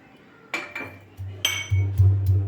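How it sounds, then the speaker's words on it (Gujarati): Garlic is pounded in a mortar for lasaniya paratha. Around seven close, uneven knocks and thuds with a metallic clink ring out in quick succession, growing heavier toward the end. "લસણ વાટવા માટે મેં ખાણી લઈ લીધી છે એની અંદર લસણ એડ કરીશું"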